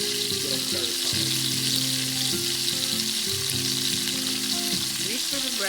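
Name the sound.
bread frying in butter in a pan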